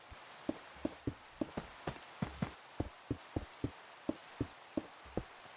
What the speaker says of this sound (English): of course it starts raining right as we're about to build.